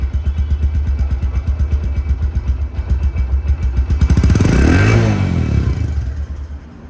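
A second-hand Bajaj Discover 110cc motorcycle in showroom-condition engine state runs close by, a rhythmic thumping idle that rises into a longer rev and then settles back, loud and alone.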